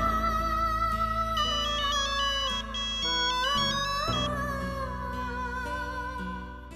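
A melodic electronic phone ringtone plays steadily and loudly, its bright tune repeating without any talking over it.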